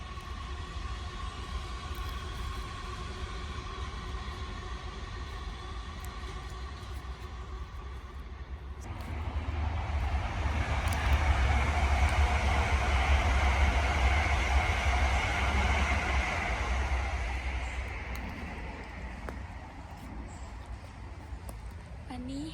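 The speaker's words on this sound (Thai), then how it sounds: "เสียงรถไฟมาแล้ว" Train rumbling past during a mushroom-foraging walk after rain, its roar swelling from about nine seconds, holding loud and close, then fading toward the end, with people talking under it.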